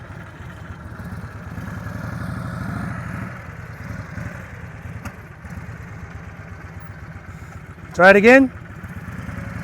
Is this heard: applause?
no